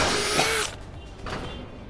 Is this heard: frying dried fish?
no